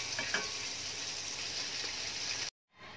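Battered crispy chicken fries in hot oil with a steady, dense sizzle and crackle for a few seconds, then cuts off abruptly before a fainter hiss returns.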